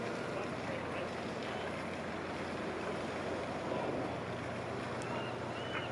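The 166-foot crab fishing boat Fierce Allegiance moving through the Seattle boat lock, heard as a steady low engine rumble mixed with water wash and wind buffeting the microphone, continuous and fairly close.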